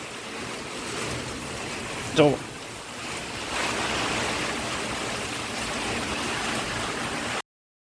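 Heavy downpour of the season's first monsoon rain on farmland, a steady broad roar of falling water with a brief burst of noise and a short spoken word partway through.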